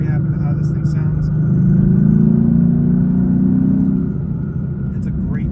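Exhaust of a daily-driver car rumbles steadily nearby, swelling briefly in the middle as it revs a little, with a voice faintly present.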